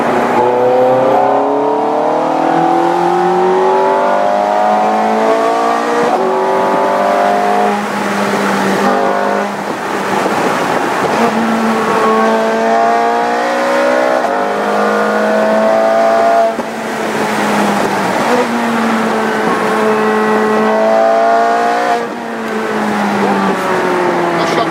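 A Ferrari F430 Scuderia 16M roars as it accelerates hard, its engine revving up through repeated climbing sweeps with brief dips between gear changes, loud and continuous throughout.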